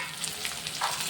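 Tomato, green chillies, ginger and onion frying in oil in a pan, a soft continuous sizzle with faint stirring clicks, quiet and close, no voices.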